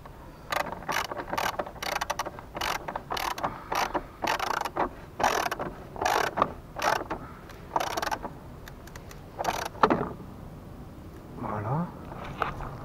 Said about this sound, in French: Voilà, donc vous revissez bien le boulon